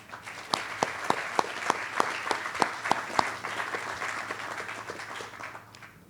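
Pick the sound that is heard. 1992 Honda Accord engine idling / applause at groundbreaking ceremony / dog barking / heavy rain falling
applause at groundbreaking ceremony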